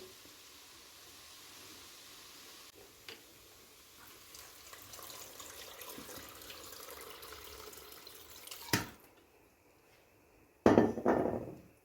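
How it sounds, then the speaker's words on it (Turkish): Water is poured into a pot of sautéed zucchini for a milky zucchini soup, a steady faint pouring wash that ends in a few louder clanks and splashes near the pot. "Beş su bardağı kadar su ilave ettim."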